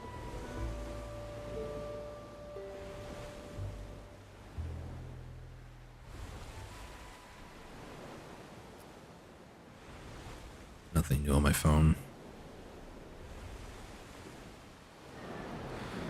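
Ocean waves wash in a steady broadband surf in the video game Black Desert, a continuous soft rush under background music, with someone speaking briefly and a short louder burst near the middle.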